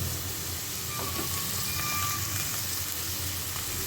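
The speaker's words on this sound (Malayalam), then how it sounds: "ക്യാബേജ് ഇട്ടിട്ട് ഒന്ന് ഇളക്കി കൊടുക്കാം." Cabbage, spring onion leaves and stems sizzle and crackle in a frying pan for fried rice, a steady hiss with faint stirring.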